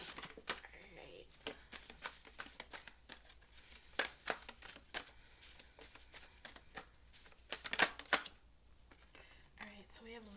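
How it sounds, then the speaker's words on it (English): Oracle cards are shuffled in a run of quick, soft riffling and slapping bursts at irregular intervals, under quiet talk and room noise. "as we shuffle more cards"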